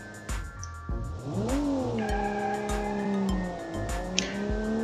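Underpowered taxi car in BeamNG revving and accelerating with tires spinning and squealing, the engine note climbing in pitch, then settling before rising again, loud and close.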